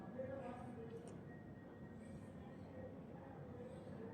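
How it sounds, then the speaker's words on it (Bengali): An AC train on the Ranaghat–Sealdah line rolls slowly into a station platform with a low, continuous rumble and faint squeals, crowd noise and nearby voices underneath. "ট্রেনটা আস্তে আস্তে প্ল্যাটফর্ম থেকে আসছে।"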